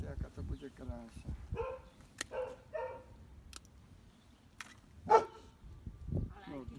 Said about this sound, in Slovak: No, ďalší pes, no.